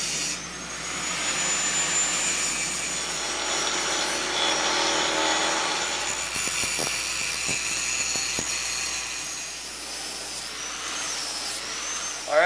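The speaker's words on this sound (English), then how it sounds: "take our grinder and start cleaning up these welds" An angle grinder cleaning up welds on steel deck stair rails makes a steady, loud, high-pitched whine with a rough grinding hiss, easing off near the end, with a few sharp knocks in the middle.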